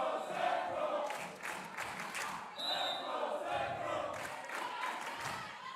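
A crowd cheers and shouts at a college women's volleyball game in a gym, with a lively, uneven roar of voices that rises and falls and sometimes includes a sharp whistle or squeak.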